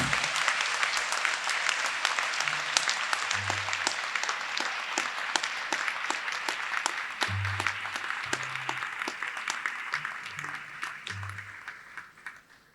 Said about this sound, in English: by a round of applause express your appreciation for them